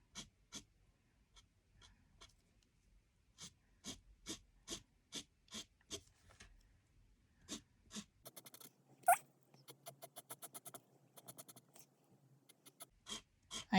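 The fat nib of a marker strokes across card stock in a steady series of short, dry, close scratches, speeding into a rapid flurry of strokes toward the end.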